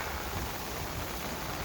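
Heavy rain pours steadily in southern Fukuoka during a flood period, a dense, even hiss close by with no breaks and no voices.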